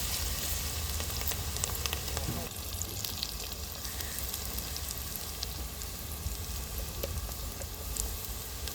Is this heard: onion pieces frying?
yes